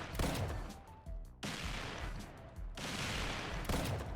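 Max-level mortar firing in the video game Tower Defense Simulator, dense rolling bursts of explosive blasts in repeated volleys, with brief gaps between barrages.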